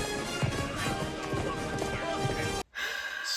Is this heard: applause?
no